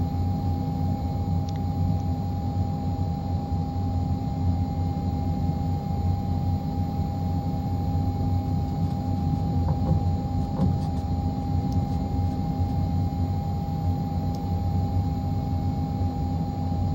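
Steady, unbroken engine drone of a FlysimWare LearJet 35A taxiing in Microsoft Flight Simulator, a constant low hum and whine with no talk and no change in level throughout.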